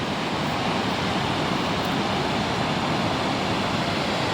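Steady rushing roar of a waterfall at Kajulu, a dense continuous wash of falling water heard close and alone.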